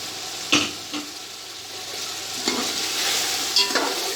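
Chicken and pulao masala fry in a pot with a constant, fairly close sizzle. Sharp scrapes of a spoon stirring against the metal break in a few times.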